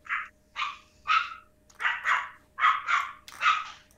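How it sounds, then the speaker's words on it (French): Angry dogs in a video game bark in a quick series of about nine sharp, close barks, some in pairs, with short gaps of near silence between them. "Mon Dieu, tes chiens sont vraiment fâchés."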